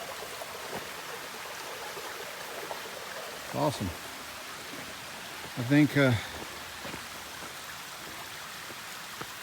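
Clear water runs off a hard rock ledge at Zealand Falls in a steady rushing wash, a close, continuous stream heard under brief bursts of someone talking.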